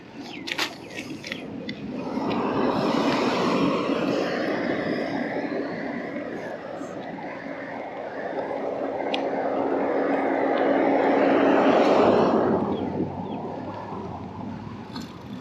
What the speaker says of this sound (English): This is very strong wind.